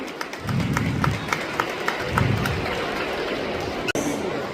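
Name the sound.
applause for the school, SP and collector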